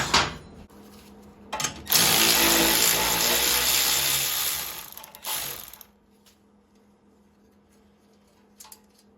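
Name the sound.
wrench loosening bolts on an Ariens snowblower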